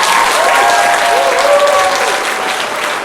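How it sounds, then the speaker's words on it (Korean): An audience at a business seminar bursts into loud, dense applause that holds steady and then eases slightly toward the end. "박수요."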